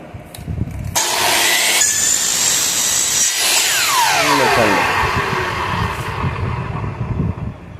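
Power saw cutting aluminium pieces, a loud, harsh metallic whine that holds steady and then sweeps downward as the blade spins down, with a continuous buzzing roar close by.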